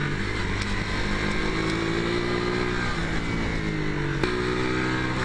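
Motorcycle engine running on a race circuit, a steady, close, loud drone with shifting tones as revs rise and fall, carrying on without a break and with no talking.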